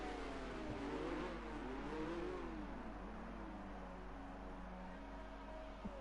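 A McLaren race car engine in a historical-championship racing game round in Spain, droning continuously with pitch that rises and falls as it revs through gears, steady and close with no talking.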